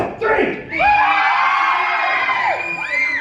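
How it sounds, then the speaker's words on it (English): A theme park audience at a horror makeup show screams together on cue, a loud, sustained crowd of shrieks and yells with children's voices rising above the mass and whoops cutting through near the end. "I need to hear your best horror movie scream"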